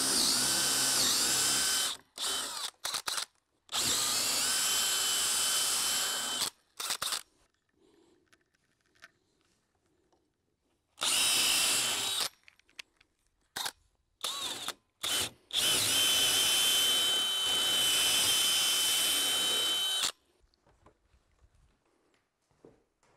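A power drill bores a hole through a live edge wood slab for a floating cabin kitchen shelf, loud grinding bursts of several seconds each, broken by short pauses and a longer quiet gap, with no talk.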